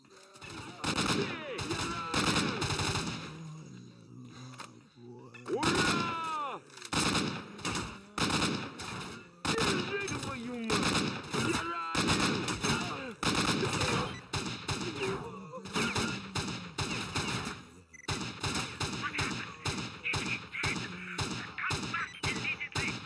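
Video game gunfire in S.T.A.L.K.E.R.: Shadow of Chernobyl: repeated bursts of close, loud automatic shots with brief pauses, continuing throughout amid game sound effects.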